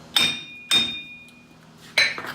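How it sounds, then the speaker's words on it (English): A hammer knocking a corroded wheel bearing off a Ford F150, three sharp metallic strikes with a ringing clang after each, the first two close together and the third after a longer gap. "They make pullers for this, but I like to try using a hammer."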